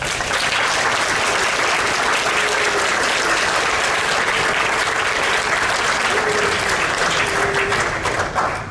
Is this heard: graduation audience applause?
yes